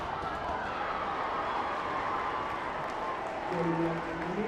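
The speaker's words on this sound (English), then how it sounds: "The crowd appreciating that one." A crowd at an under-13 schools cup football match applauds a goalkeeper's save with light, distant clapping under continuous commentary.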